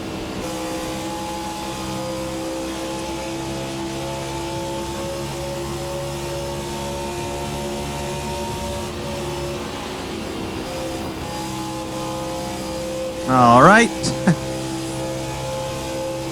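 A race car engine in the Race Sim Studio Hyperion 2020 racing sim drones at a steady, loud pitch while driving, with a brief spoken remark near the end.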